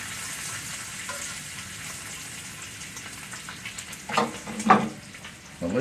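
Bacon rendering its fat in a pan sizzles steadily at a low level, with a few louder spits and pops near the end.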